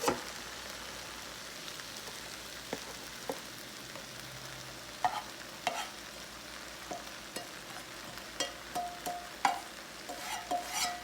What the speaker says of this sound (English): it is time to throw my onions in my hash browns